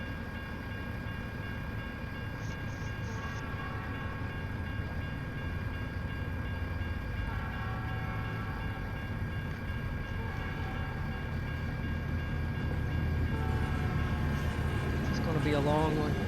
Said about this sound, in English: these trains are a mod, which I liked up until right now.